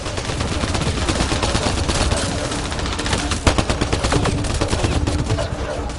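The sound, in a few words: gunfire in the video game Mass Effect Andromeda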